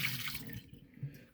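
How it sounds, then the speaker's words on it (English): Water splashing out as the reservoir of a Bunn Trifecta MB coffee brewer is dumped, a brief close gush that quickly tapers into drips. "dump the reservoir out"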